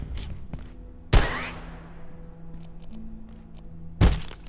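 Gunfire in the video game Abiotic Factor: two sharp, loud shots about three seconds apart, each a hard crack trailing into a reverberant decay, over a low ambient hum.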